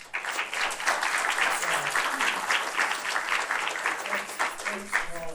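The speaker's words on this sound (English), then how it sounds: "let's give them a round of applause" An audience at a university speaker series applauds a panel, steady broadband clapping from many hands throughout, with faint voices underneath.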